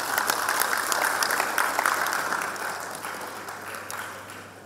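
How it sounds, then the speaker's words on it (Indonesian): Crowd applause for Pak Riko at an Indonesian official gathering, a dense, steady wash of many hands clapping that holds strong and then gradually thins and fades toward the end. "Tepuk tangan Pak Riko."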